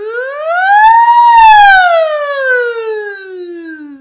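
A human voice imitates a siren on a sustained "ooh" vowel during a vocal warm-up, gliding smoothly up in pitch, peaking, then sliding slowly back down over about four seconds, loud and close with no other sound.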